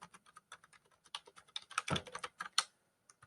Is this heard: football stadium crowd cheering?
no